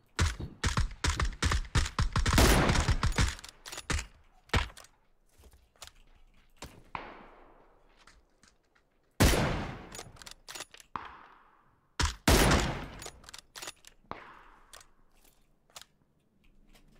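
Gunfire in a multiplayer shooter video game: bursts of sharp, loud shots in quick succession at the start, then scattered single reports and shorter volleys with fading tails, no talk.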